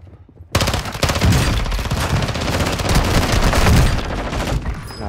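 Sustained automatic machine gun fire in the video game Call of Duty: Modern Warfare II, a dense rapid stream of loud shots that starts abruptly after a brief quiet moment and continues to the end.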